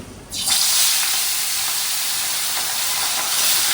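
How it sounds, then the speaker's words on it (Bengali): Fish pieces rubbed with salt and turmeric drop into hot oil and burst into a loud, steady, hissing sizzle that holds close and even after a sudden start, with no voices. "এবারে মাছগুলো ভাজা করব চলো দিয়ে দিই"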